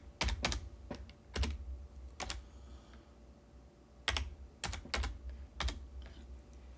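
Someone types a calculation into Desmos on a computer keyboard, with sharp close key clicks in small irregular clusters separated by brief pauses, and no talking.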